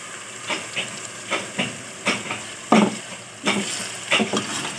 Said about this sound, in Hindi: और इसको फिर एक दफ़ा फ्राई कर लूँगी, मतलब भून लूँगी ना मिसाले को